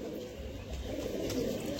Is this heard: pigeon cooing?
yes